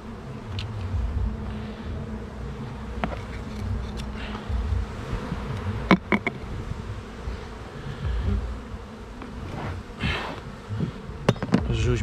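Bees buzz continuously around an open beehive during a hive inspection and colony split, a near, dense droning hum with scattered sharp clicks and handling knocks, with no talking.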